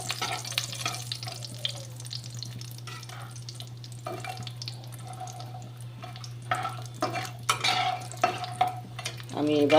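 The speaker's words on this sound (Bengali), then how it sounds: "বড়িগুলোকে ভাজা করে নেব।" Bori lentil dumplings frying in oil in a wok, a faint steady sizzle broken by scattered stirring scrapes and soft clatters, quiet throughout and swelling slightly at the end.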